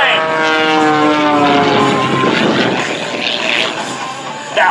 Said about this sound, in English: He powers the airplane up on a 45-degree upline